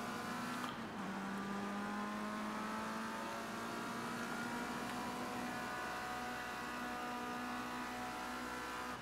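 A racing car engine with engine trouble roars in Project Cars 2 during a European championship career race, a steady, loud, close drone with layered harmonics and slight pitch shifts throughout.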